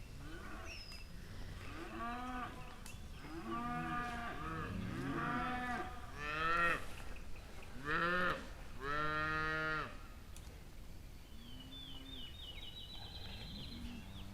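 Cattle moo on pasture, several long, loud, drawn-out calls overlapping and trading off, with birds chirping faintly in the open air behind them.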